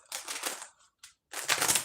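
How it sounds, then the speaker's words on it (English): Tarot cards being shuffled, with two bursts of rapid papery riffling separated by a short flick, close and fairly quiet, no talking. "Let's shuffle the deck and get a good shuffle for you, Nikki."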